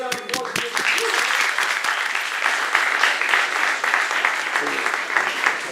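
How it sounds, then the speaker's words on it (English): An audience gives a warm round of applause after a talk, continuous dense clapping with a voice briefly heard at the start. "Can we have a nice round of applause?"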